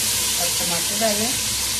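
Tomatoes drop into frying onion masala for a spicy Punjabi arbi dish, giving a continuous close hiss and sizzle with a faint voice underneath.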